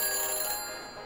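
Phone ringing after dialing a phone booth in the Back to the Future video game, a brief bright electronic ring tone, sustained and fading slightly, heard alone.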